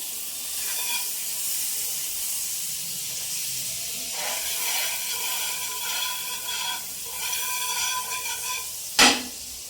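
Butter sizzles on a hot griddle for a Jain tandoori paneer pizza, a continuous crackling hiss with occasional bursts of bubbling and a single loud metallic clank near the end, no voices.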